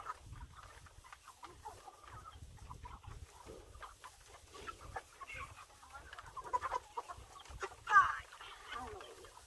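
Chickens cluck and murmur throughout, a busy farm flock close by with scattered sharper squawks and rustling as someone wades among them, one louder call near the end.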